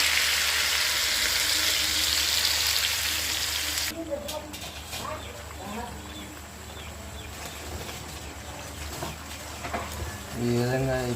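A spice paste in hot oil sizzles in a home kitchen, a bright steady frying hiss at first that then settles into softer crackles with some stirring and clatter, while someone talks.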